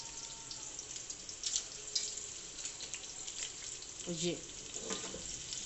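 Whole garam masala spices (black peppercorns, cloves and a bay leaf) fry with onions in a pot for chicken moti pulao, giving a steady close sizzle with occasional stirring clinks and a brief spoken word.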